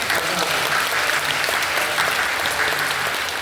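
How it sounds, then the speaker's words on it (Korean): Church congregation at a Friday night prayer service clapping warmly, a dense sustained applause filling the room evenly with no break. "뜨겁게 박수하겠습니다"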